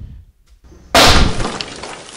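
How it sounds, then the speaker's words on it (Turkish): A wall breaks with a sudden, loud crash after a near-silent moment, a burst of shattering debris that rings on and slowly trails off. "Oha lan duvar kırıldı."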